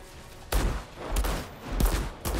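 Sniper gunfire in the Outriders video game: four heavy shots at roughly half-second intervals, each a loud, booming crack over steady game ambience.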